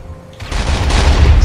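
Sticky bombs detonating in GTA Online, a quiet lead-in giving way to a loud, dense run of overlapping blasts and rumbling booms that keeps building.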